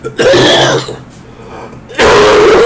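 Two loud, close harsh coughing bursts separated by a brief pause, raspy and strained.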